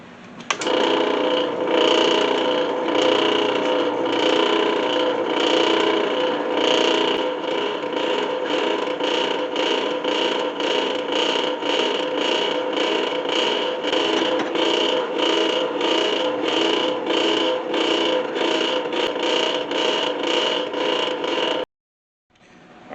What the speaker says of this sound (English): let's get some holes blowed in here.